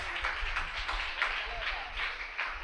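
Applause for a speaker at a Tamil pattimandram debate: a steady wash of crowd clapping that swells in small surges for under three seconds, fairly close and continuous.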